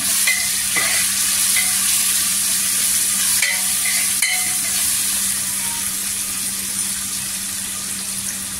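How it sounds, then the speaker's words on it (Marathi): Chopped green chillies fry in hot oil with a loud, steady sizzle, close up, and faint scraping stirs drift in and out over the constant hiss; no voices. "दोन ते 4 हिरव्या मिरच्या आहेत कट केलेल्या आहेत त्या टाकायच्या"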